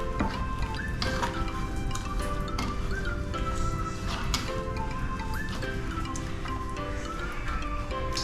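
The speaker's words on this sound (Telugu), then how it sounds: "నూనె కొంచెం ఎక్కువగా వేసుకోవాలి దాని సరిపడా బాగా కలుపుకొని" Fish pieces are mixed by hand with a generous amount of oil for an Andhra Godavari-style fish curry, giving soft wet squelches and drips close up over a steady background hum.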